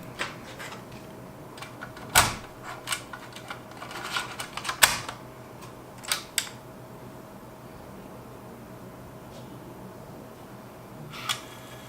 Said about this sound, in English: Now let's turn the computer on to see how the drive sounds.